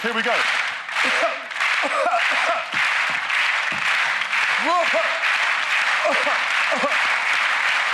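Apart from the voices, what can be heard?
audience slow hand clap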